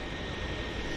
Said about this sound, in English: keep my eye on the airplane that's about ready to turn on to the takeoff run